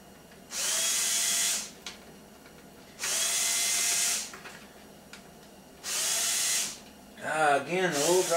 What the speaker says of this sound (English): the little Ryobi drill with a good set of bits of every kind will save you a lot of time